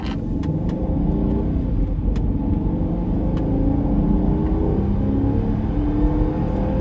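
An L322 Range Rover bought at auction, driving in high range, gives a steady, loud, close engine roar with road rumble that holds level throughout, with no voices.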